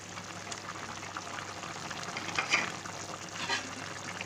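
Curry frying in a pan with homemade masala powder stirred in, a soft continuous sizzle with faint stirring scrapes and occasional brighter crackles, quiet and close with no talking.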